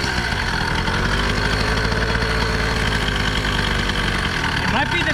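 A custom-built motorcycle engine idling with a muffled, tractor-like chug, loud and steady close to the microphone, with a brief voice near the end.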